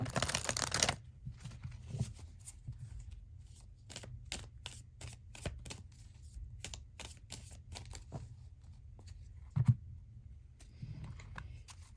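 Harmony Tarot cards are riffled and shuffled in a close, quiet room, producing a dense flurry of crisp clicks and taps that lasts most of the stretch, ending in a few soft scattered snaps.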